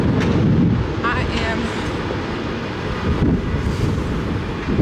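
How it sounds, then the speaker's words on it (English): Strong wind blows outdoors, buffeting the microphone with a loud, continuous low roar and rumble that surges slightly throughout. "This wind is crazy."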